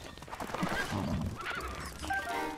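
Horse whinnying in the video game Zelda: Breath of the Wild, a short, fairly close neigh with some hoof clip-clop underneath, heard alone without talking.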